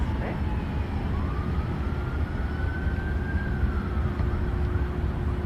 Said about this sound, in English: And there's sirens behind us today.